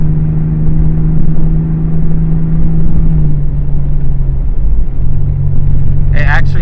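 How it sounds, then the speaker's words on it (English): A 1993 Ford Explorer SUV with its muffler deleted idles with a low, loud rumbling drone and then rises slightly as gas is applied, heard from inside the cab with a brief higher whine near the end. "with the muffler delete, you get a little bit, and if I give it some gas"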